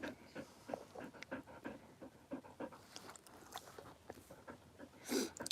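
A dog pants rapidly and steadily in hot weather indoors with sun streaming through the windows, close to the microphone, with a brief louder breathy burst near the end.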